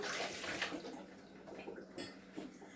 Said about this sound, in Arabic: دابا غنكبوا عليها الماء طايب، الماء طايب غنكبوه عليها